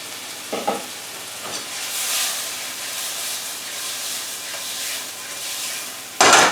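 A mixed grill of English dinner meats sizzling steadily in a hot pan, a constant loud hiss with a couple of soft clatters early on and a sharp burst of crackle at the very end.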